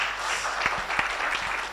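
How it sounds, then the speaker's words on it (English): An audience claps for the panelists at a live-streamed US Embassy Tanzania event, a soft, fairly distant patter of hands with a few sharper individual claps standing out. "A round of applause to our panelists."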